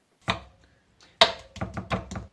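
Several crisp, rhythmic knife chops dicing an onion on a cutting board, a single stroke first, then a quick run of cuts.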